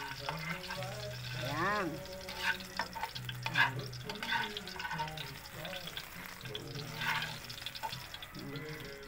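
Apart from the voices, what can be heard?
sautéing garlic and onion in a pan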